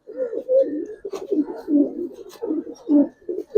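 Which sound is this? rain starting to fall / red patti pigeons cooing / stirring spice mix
red patti pigeons cooing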